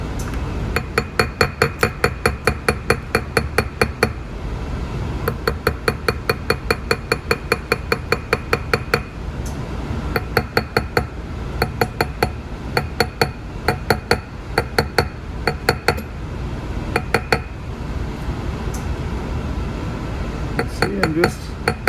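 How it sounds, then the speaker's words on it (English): Repeated light metallic hammer taps on a bezel setting held on a steel ring stick, a steady run of close, sharp clinks with brief pauses between bursts. "when I'm hammering it, it's forcing it onto the ring stick"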